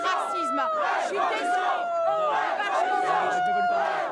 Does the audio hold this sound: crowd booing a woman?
yes